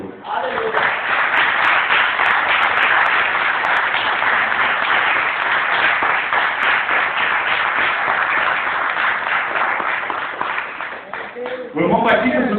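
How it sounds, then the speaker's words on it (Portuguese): A church congregation applauds the Lord in a loud, dense, sustained wash of clapping that runs for several seconds, dips briefly near the end, then swells again. "Aplauda o Senhor."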